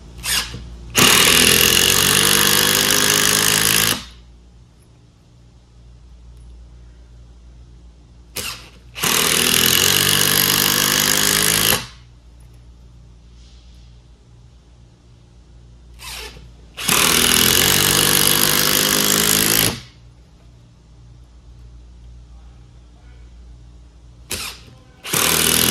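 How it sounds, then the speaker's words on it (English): A Hercules power drill bores pilot holes in four loud, close bursts of several seconds each, separated by quiet pauses. "Pilot hole first."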